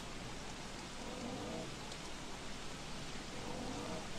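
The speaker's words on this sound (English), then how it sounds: "We're just going to have to put up with the rain and that overnight." Steady rain falls in Don't Starve as a constant soft hiss of drops, fairly quiet and unbroken, with no talk over it.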